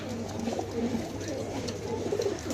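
Newly released pigeons coo softly in a low, continuous murmur, with faint background noise and no clear speech.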